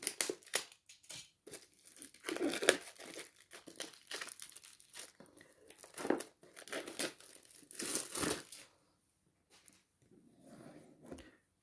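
Panini UEFA Euro 2020 Nordic Edition sticker gift box and packets being opened up close, bursts of crinkling plastic and tearing paper with short pauses between handling noises.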